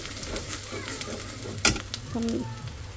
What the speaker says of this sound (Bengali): তাহলে শুটকি রান্না করবো, একটু রসুন বাটা একটু বেশি দিছি, আদা বাটা একটু কম দিলাম